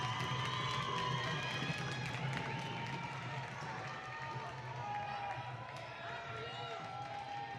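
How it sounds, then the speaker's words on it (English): Crowd noise at a women's college volleyball match, Canyons against Santa Monica: a steady, loud wash of cheering and shouting fills the gym throughout, with squeaks and scattered calls mixed in and a commentator talking over it. "Crowd trying to keep everybody fired up."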